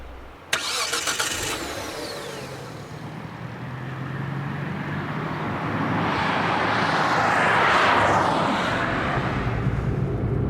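A car engine cranks with a sharp starter whine, catches and settles into a steady idle that swells louder toward the end, heard close up with no talking.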